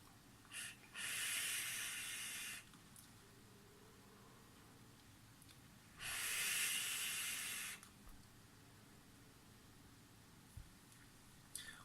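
Two long airy draws on a Coilart Mage RTA V2 rebuildable atomizer running at 0.28 ohms and 43 watts with airflow wide open, each a loud steady hiss of about two seconds, separated by quiet pauses.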